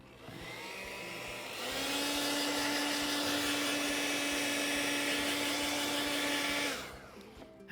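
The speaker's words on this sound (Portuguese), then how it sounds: "Vamos pegar o secador." A hair dryer runs steadily for several seconds while drying stencil paint, a loud, even whooshing drone with a steady whine that rises as it starts and falls off as it is switched off, heard alone.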